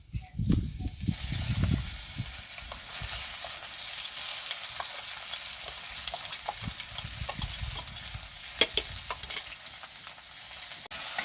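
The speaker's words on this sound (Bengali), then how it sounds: "এখন আমি ডালটাকে তেলের মধ্যে দিয়ে দেবো।" Washed, drained lentils hit hot oil with chopped ginger for a rustic spinach dal, giving a steady, close sizzle and hiss broken by scraping stirs throughout, with no talking.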